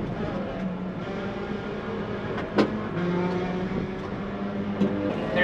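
A Honda S2000 engine idles steadily at a track day with a low, constant hum, broken by a couple of short clicks or knocks.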